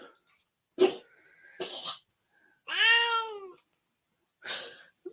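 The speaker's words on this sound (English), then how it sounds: "Yeah, I've got a cat with a bad cough." A cat makes several short, harsh coughing bursts separated by silence, with one strained, voiced hacking sound in the middle.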